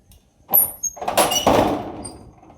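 A metal sheet door is pulled shut on a rainy day, giving a short high squeak followed by a longer grinding squeal, close and fairly loud.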